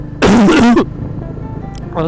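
A single loud, rough cough bursts out for about half a second from someone heading out to vote, with quiet background afterward.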